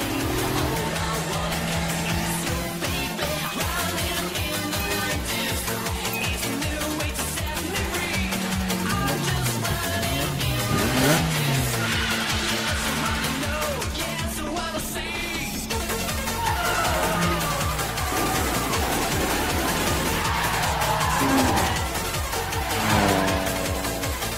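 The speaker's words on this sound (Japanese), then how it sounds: "あのドリフトはほとんどカウンターを当てない全開の四輪ドリフト。" R32 race cars drift on a mountain road in the Initial D anime, with sustained engine roars and tire squeal over a busy, loud music track for the whole stretch.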